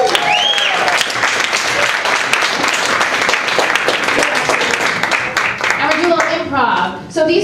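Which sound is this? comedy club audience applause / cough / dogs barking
comedy club audience applause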